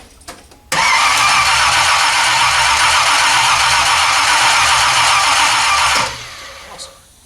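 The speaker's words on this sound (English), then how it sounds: "Let's see if she cranks over." AMC Spirit AMX engine cranking on a new Powermaster starter, a loud steady whirring churn lasting about five seconds without catching, then stopping into quiet with faint clicks.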